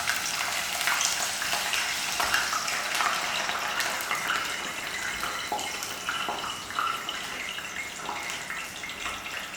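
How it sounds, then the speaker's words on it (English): Onions frying in hot oil while making chevda, a steady close sizzle and crackle that stays fairly even throughout, with no talking. "I'm going to fry out my onions."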